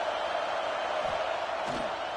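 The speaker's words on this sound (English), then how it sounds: "this crowd trying to help keep them there" A stadium crowd roars and cheers at a USC versus Nebraska college football game, a loud, steady wall of noise that keeps the same level throughout.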